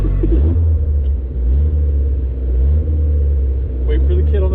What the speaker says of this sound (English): now I'm going to test drive it with him on the passenger seat